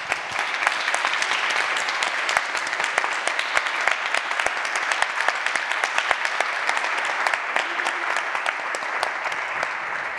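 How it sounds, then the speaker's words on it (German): Sustained audience applause at the close of an art conversation event with painter Katharina Grosse at Hamburger Bahnhof, dense steady clapping for about ten seconds with no talk over it. "großer Applaus an Katharina Grosse"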